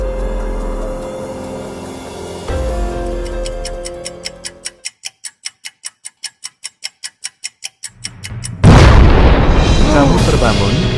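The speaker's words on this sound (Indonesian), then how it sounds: "Kamu terbangun karena mendengar suara ledakan." A steady ticking like a clock, evenly spaced beats over silence, then a sudden loud burst of noise like an explosion.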